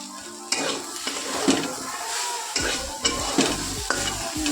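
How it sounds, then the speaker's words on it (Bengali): Potato and bitter gourd dry-frying in a pan with no oil, with steady close sizzling and repeated scraping stirs at a regular pace. "এই যে আলু উচ্ছে ভাজা হচ্ছে তেল ছাড়া একদম"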